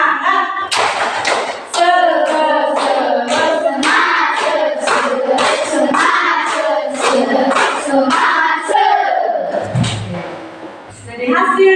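A classroom of children does a rhythmic spirit clap, quick patterned claps and slaps mixed with chanted voices in a steady beat, loud and close, ending in a final flourish.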